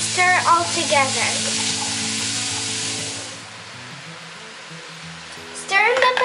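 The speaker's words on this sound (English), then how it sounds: "To our pot, I am going to add in our carrots, onion, and celery. And then just go ahead and stir it all together." Carrots, onion and celery stirred in a hot pot for potato soup, with a sizzle that tapers off. A person talks over the first half and again near the end.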